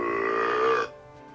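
A reader's voice imitates a monster's loud belch in a single drawn-out, rumbling burp that cuts off abruptly into quiet.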